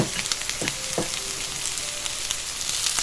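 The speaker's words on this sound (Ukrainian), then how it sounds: "А горішки ми теж відправляємо до цибульки." Walnuts and onions frying together in a pan, a loud close sizzle with crackling pops and a few clicks of stirring, steady throughout with no talking.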